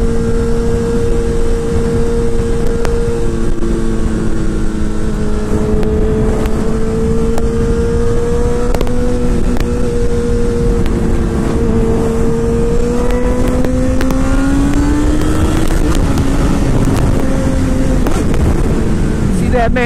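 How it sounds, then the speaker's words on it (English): Motorcycle engine revving hard on a ramp, a loud continuous drone whose pitch holds steady, then rises and drops as the bike accelerates, close and dominant over wind noise. "Hear that engine, baby?"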